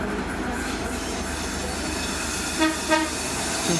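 An N-class locomotive accelerates hard in North Melbourne with a steady, loud rumble and drone, and a couple of brief tonal squeals or horn-like notes late on.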